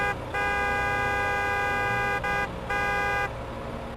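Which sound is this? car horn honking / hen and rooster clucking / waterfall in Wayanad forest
car horn honking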